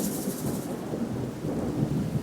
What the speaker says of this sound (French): Soudain, un orage effroyable éclata dans le ciel.